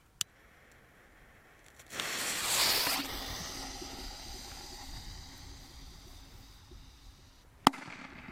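A Chinese firecracker, a Leslie China Böller C, goes off outdoors. A short hissing burst is followed by a lingering rumble, then one sharp, loud bang near the end.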